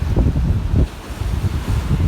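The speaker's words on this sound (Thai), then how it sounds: "นี่คลื่นแรงมาก" Rough sea waves surge and crash close by against the Hua Hin fishing pier, Thailand, splashing onto the pier, mixed with loud gusting wind that rumbles against the microphone.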